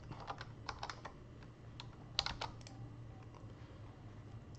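Fairly quiet, irregular keystrokes on a computer keyboard, with bursts of clicking taps spread across the clip over a steady low background hum.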